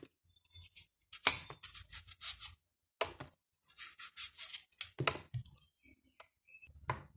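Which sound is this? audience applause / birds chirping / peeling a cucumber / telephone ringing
peeling a cucumber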